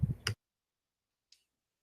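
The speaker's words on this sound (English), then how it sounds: "click on the right side of your touchpad" A laptop touchpad gives a single sharp click after a brief burst of noise at the start, then a fainter tick about a second later in otherwise near silence.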